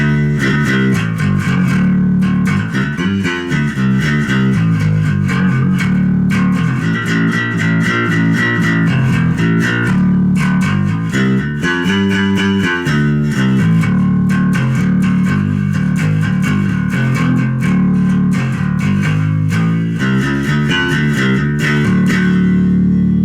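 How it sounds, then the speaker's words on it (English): A bass guitar with flat EQ plays a continuous groove through an Ampeg V4BH all-tube amp, no pedals, warm and slightly overdriven, loud and close, with thick low notes and gritty upper harmonics. "This is the sound of an Ampeg all-tube amp."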